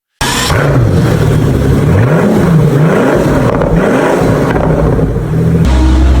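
A Pagani Huayra's 6.0-litre Mercedes-AMG M158 twin-turbo V12 revs loud and close, its pitch climbing and falling in repeated surges over a continuous engine roar.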